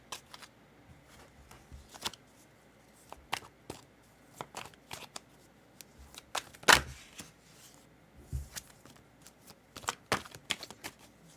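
A deck of tarot cards is shuffled close up in a quiet room, making soft irregular flutters and slaps of card against card, with scattered riffles and a sharper snap near the middle.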